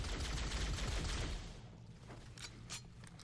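Rapid pistol gunfire in the Halo game level 343 Guilty Spark on Legendary difficulty, a dense burst of loud shots for over a second, then quieter scattered shots and game noise.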